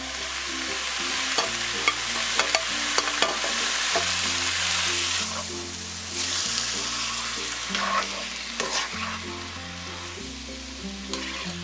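Scallops and shrimp stir-fry in a pan over medium heat, giving a continuous close sizzle broken by clattering stirs, with background music playing throughout.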